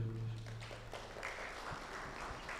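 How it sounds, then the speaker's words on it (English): Faint applause from attendees at an enterprise kick-off meeting rises after a low hum and a few stray taps, then settles into a soft, distant patter of many hands. "A round of applause"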